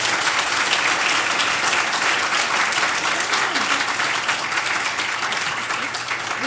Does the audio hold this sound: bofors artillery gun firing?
no